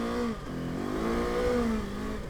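A motorcycle engine revs continuously, rising and falling in pitch, close and loud, with no talking.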